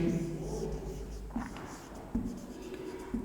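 A pen or chalk writes on a board during a lecture: faint scratchy strokes and small taps come in short bursts over a low background hum.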